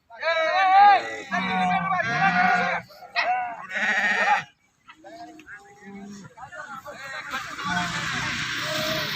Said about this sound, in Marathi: निघाली मेंढी माऊली शेतात चरायला बघा.